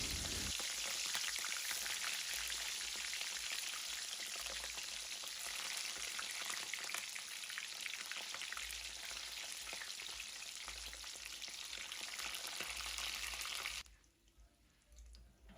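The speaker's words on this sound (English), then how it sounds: "On a heated oil, we're going to put the sausages. We're going to fry them on a medium heat." Pork sausages fry in heated oil over medium heat with a dense, continuous close sizzle and spitting crackle, steady throughout before cutting off abruptly near the end.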